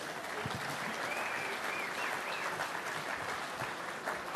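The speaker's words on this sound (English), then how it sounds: "Give a big round of applause," Steady, dense audience applause fills a hall at a 2008 testimonial event for Mick Nolan, with a few faint whistles riding over the clapping throughout.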